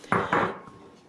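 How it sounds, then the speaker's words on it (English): A spoon scrapes and clinks twice against a pot as steel cut oats are stirred into meat and broth for haggis, brief and close. "we are going to stir in the oats and get it ready to put into the oven"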